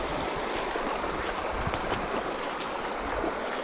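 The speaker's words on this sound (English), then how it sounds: "Our first river crossing in our spiffy new wet shoes." Water rushes and splashes continuously as someone in wet shoes wades across a river. The sound is close and broadband, with small sloshing bursts.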